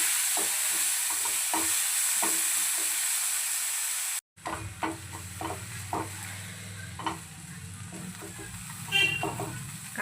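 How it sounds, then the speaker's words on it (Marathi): Finely chopped onion frying in a pan for a dhaba-style baingan masala curry, with intermittent spatula taps, then after a brief cut a louder steady sizzle and hiss with occasional stirring clicks. "पॅन मध्ये बघा मी एक बारीक चॉप केलेला कांदा मी ॲड करते"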